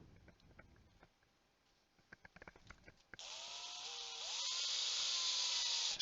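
A power drill drives long screws into slightly punky wood to fix a faceplate for woodturning, a steady high whine lasting about three seconds with pitch shifts as the screw bites, following a few quiet handling clicks.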